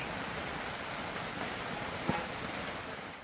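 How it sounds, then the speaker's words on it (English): Rain falling outside a van at a rainy Wisconsin campsite, heard from inside as a faint, steady hiss with a brief soft tap near the end. "I think you guys could probably hear it's still raining out there."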